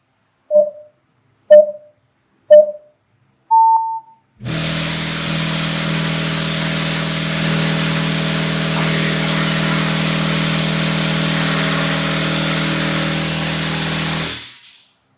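An American Bass HD-VELOCITY-12-D1 12-inch triple-magnet subwoofer driven at about 1000 watts: four short electronic beeps, then around ten seconds of loud, steady, booming bass with a buzzing rattle, ending abruptly.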